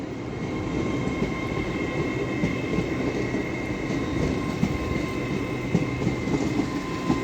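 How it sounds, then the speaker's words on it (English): An LNER 225 set running from Leeds to London King's Cross passes through Doncaster station, a sustained rolling rumble of wheels on rails with faint rhythmic clatter, steady and fairly close with no voices. "now coming down is another LNER 225 set, running from Leeds to London King's Cross"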